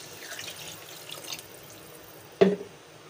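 About one and a half litres of water poured into a pot of haleem, a brief, fairly loud splash and gush lasting under half a second after quiet kitchen background.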